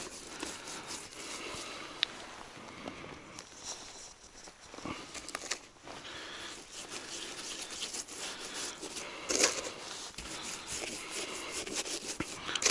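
Hands rub marinade into scored burbot fillet meat with the skin left on, giving a steady, close, soft wet rubbing and patting that runs throughout with no talking.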